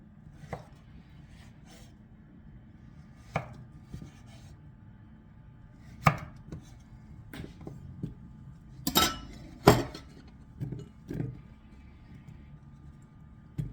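Knife cutting zucchini on a cutting board, heard as scattered sharp chops and knocks, a few louder clustered strikes in the middle, with quiet stretches and faint kitchen clatter between them.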